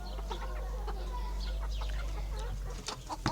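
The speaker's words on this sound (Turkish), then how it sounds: "Burada ise cin tavuğu horoz." Guinea fowl, including a guinea cock, and chickens cluck and chatter in a busy farmyard, several birds calling at once over a low steady rumble, no talking.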